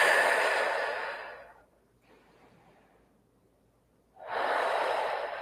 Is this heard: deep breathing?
yes